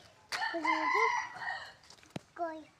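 A rooster crows once, loud and close, the call stretching over a second, followed by a sharp click and a short, higher clucking cry.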